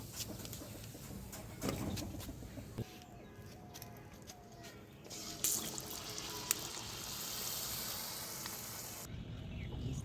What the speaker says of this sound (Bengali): তা এখন এটি তুলে নেব এবং বাকিগুলো এভাবে সবগুলো ভেজে নেব